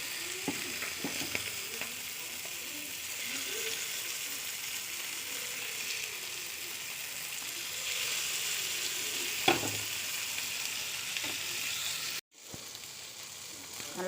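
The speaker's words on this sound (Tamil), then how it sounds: "இதுவும் வறுபடட்டும்" Manthal fish sizzling as it fries in a pan, a steady loud hiss with a few sharp pops and clatters, then a brief cut to a quieter sizzle near the end.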